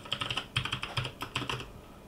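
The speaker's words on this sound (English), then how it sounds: "I'm gonna switch user to root by typing SU," Quick bursts of typing on a computer keyboard, close and crisp, with several clusters of rapid key clicks separated by brief pauses before falling quiet.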